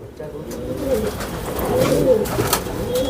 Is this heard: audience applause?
no